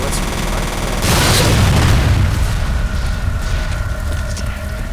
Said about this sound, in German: Und wir haben die ganze Zeit vor einem explodierenden Fass gestorben